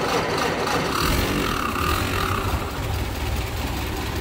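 A 1914 Ford Model T Touring engine running right after a floor-pedal start, a steady close, rough idle rumble that holds evenly throughout with no speech.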